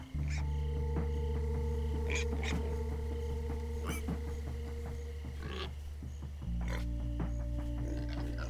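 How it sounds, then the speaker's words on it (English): Pigs oink and grunt in short bursts in Minecraft: Story Mode, over a steady low electronic hum, with scattered squeals and a shift in the drone partway through. "Hey, all pigs but Reuben, shut up!"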